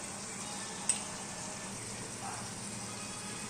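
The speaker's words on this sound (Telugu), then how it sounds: "ఇలా చికెన్ నూనెలోనే ఏగే కొద్దీ నీళ్లు కూడా ఊరుతాయి" Chicken pieces frying in oil in a pan for a vegetable chicken curry, a steady soft sizzle holding evenly throughout, with one brief click near the start.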